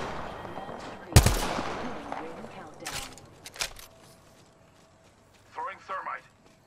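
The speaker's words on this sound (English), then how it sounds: "I'm getting shot." Gunfire in the video game Apex Legends: a sharp loud shot, then a few scattered weaker bursts, with people talking over the action.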